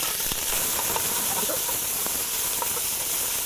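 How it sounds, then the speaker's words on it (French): Onions frying in olive oil in a pan, giving a steady, dense sizzle and hiss with faint pops scattered throughout. "Là, on met tout de suite les oignons."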